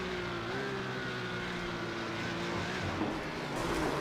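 Engine of a Porsche Cup race car in the iRacing game, heard onboard at Zandvoort, holds a steady high-revving drone with a faint pitch drift and no speech.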